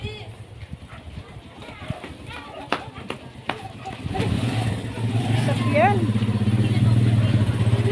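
A motorcycle engine rumbles in from about four seconds and holds steady and loud, while people chatter and call out over it.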